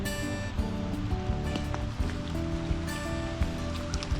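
Light rain patters steadily on surfaces outdoors at the Museum of the Cherokee in the Smoky Mountains during fall, forming a dense, even wash with faint scattered drips and a low background hum.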